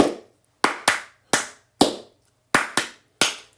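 Eight sharp hand claps in an uneven rhythmic pattern, crisp and close, ringing briefly in a quiet room with no voices.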